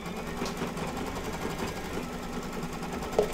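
An embroidery machine stitches an in-the-hoop gingerbread man mug rug with a soft, steady mechanical whir and faint rapid needle rhythm, fairly quiet and continuous.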